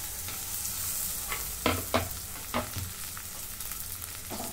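Tomatoes sauté with onions in a little oil in a pan, a continuous sizzle broken by several sharp scraping strokes of a spoon stirring the mixture, close and with no talking.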